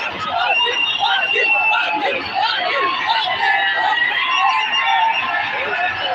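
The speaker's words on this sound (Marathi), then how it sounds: "पाटील पाटील पाटील अशा घोषणा या ठिकाणी होताना दिसत आहेत" A large, dense crowd in Nanded awaiting Manoj Jarange Patil's arrival chants Patil's name in a loud, continuous roar of voices that fills the whole stretch with layered shouting and babble.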